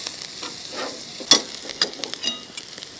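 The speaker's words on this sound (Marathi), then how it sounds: "त्याच तेलामध्ये हा कांदा परतवून घ्यायचा आहे" Chopped onion sautéing in oil in a pan for a Konkani-style jackfruit dish, a soft continuous sizzle broken by several sharp spatula scrapes and taps, close and without speech.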